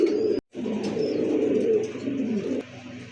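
Pigeons at a market selling local and foreign breeds coo in low, steady, throaty murmurs close by, continuing almost without a break apart from one short gap.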